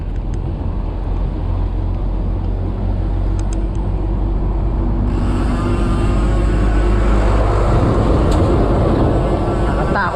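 Trucks passing on a rural road in Gabaldon, heard as a loud, continuous rumbling roar that swells and brightens midway as a vehicle draws near, with wind noise throughout.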